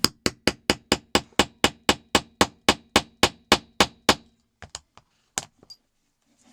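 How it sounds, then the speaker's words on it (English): Hammer striking a punch to set an accordion rivet, about fifteen sharp, evenly spaced metallic taps close up, followed by a few softer scattered knocks and then near silence. "Find the punch and use the rounded, you know, the rounded end, and then just going to give that a sharp couple of taps."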